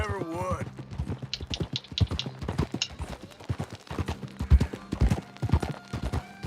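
Horse hooves clip-clop in the video game Red Dead Redemption 2 in a steady, uneven rhythm of many close hoofbeats, with a brief whinny-like call at the start.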